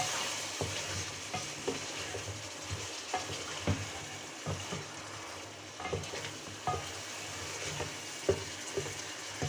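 Pieces of desi chicken for a curry with potatoes frying in a pan under a continuous loud sizzle, with repeated scraping stirs knocking at irregular intervals.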